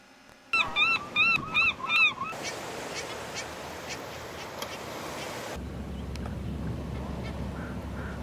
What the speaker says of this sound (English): Heermann's gull.